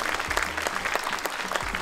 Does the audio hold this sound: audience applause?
yes